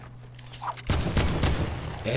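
Heavy assault rifle fire in Fortnite, a burst of game gunfire erupting loudly after a quieter opening and continuing as dense repeated shots.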